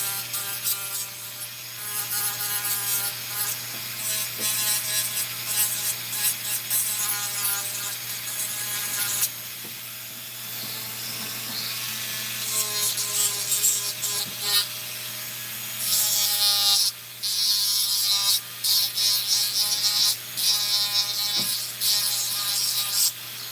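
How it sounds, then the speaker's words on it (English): A Dremel rotary tool with a barrel drum sander grinds resin flash off a carbon widebody kit part, a high-pitched continuous whine with varying pressure and short scraping bursts, close and loud. "I use my roller bit here, my barrel drum sander, and then that will just clean all that off real quick."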